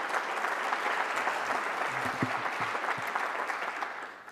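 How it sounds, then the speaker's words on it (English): An audience at an event marking a garden's 50th anniversary applauds steadily, a dense wash of clapping that holds for several seconds. It thins slightly at the end while a faint voice sits underneath. "Let's give a round of applause to that."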